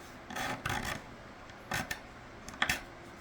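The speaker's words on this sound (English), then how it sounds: "pretty in-depth fret dressing process, removing these sharp little burrs" Frets on a new custom neck for a five-string bass guitar are filed to remove sharp burrs, in several short, close rasping strokes separated by brief quiet gaps.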